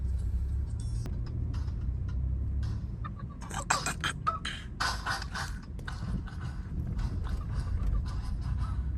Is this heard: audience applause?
no